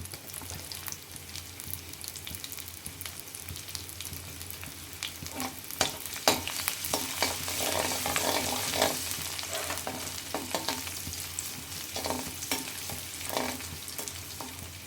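Chopped garlic and ginger sizzle in oil, with a soft steady hiss broken by crackles and the scrape of stirring.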